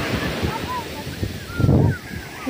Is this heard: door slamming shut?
no